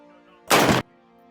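A single sharp, loud report from a Colt AR15A4 rifle at an outdoor range, one close blast standing alone against quiet.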